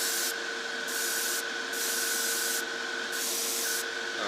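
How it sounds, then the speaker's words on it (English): An aerosol can hisses in several steady bursts of primer spray onto parts with short pauses between them, close and fairly loud. "So I'm going to go and spray a few parts"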